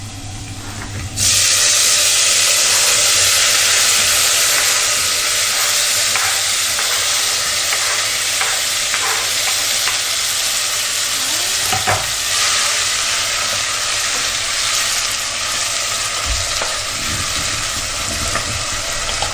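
Chopped tomatoes fry in a hot pan while being stirred, a loud steady sizzle running throughout with scattered scrapes and clicks of the spoon against the pan.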